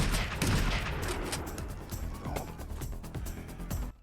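Dense movie gunfire from an AK rifle in the 2024 action film Beverly Hills Cop: Axel F, a loud, continuous fusillade of rapid shots that fades slightly before cutting off.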